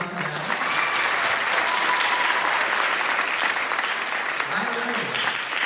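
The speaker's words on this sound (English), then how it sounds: "So round of applause to them." Steady applause from a crowd at a high school choir holiday concert, dense clapping that fills the whole stretch without pause.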